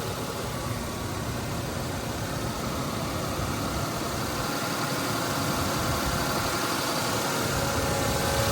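A Lexus LX470 with a 2UZ-FE V8 runs at a steady idle, a constant close engine rumble with no speech over it.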